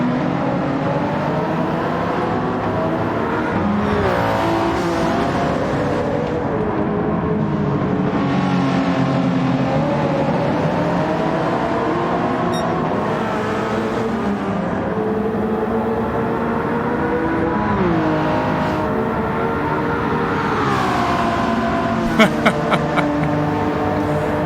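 Race cars including an NSX roar through a Gran Turismo 7 endurance race, engines droning loudly and continuously, pitch rising and falling through gear changes and braking, several cars close together.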